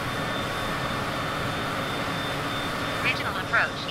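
A Cessna C25C jet in Microsoft Flight Simulator, flying near DFW airport at 2,400 feet, gives off a steady, even engine drone throughout, with a couple of brief chirpy radio-like bursts near the end.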